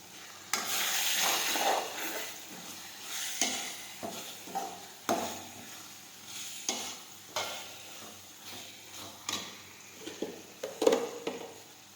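Cumin seeds going into hot oil for urad dal, a close sizzle with repeated scraping stirs that come in uneven bursts, alone and moderately quiet.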